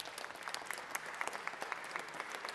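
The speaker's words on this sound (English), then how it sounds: "Give them a round of applause." Applause fills the Georgia State Senate chamber at the Capitol: a steady patter of many hands clapping at once, sustained and moderately distant, with no speech over it.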